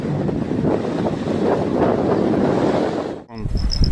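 Sea waves and strong wind on the shore at Kryzhanivka near Odesa during sea fishing, a loud continuous roar of wind buffeting the microphone with surf, briefly dropping out near the end before resuming.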